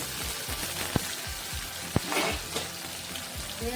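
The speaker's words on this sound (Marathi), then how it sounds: "कांदा आपल्याला छान असा सॉफ्ट होईपर्यंत छान असा परतून घ्यायचा आहे" Chopped onion and chilli sautéing in a pan for alu fatfata, a continuous close sizzle broken by a few sharp ticks and light stirring taps, no voices.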